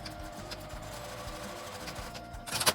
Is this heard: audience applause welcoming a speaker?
no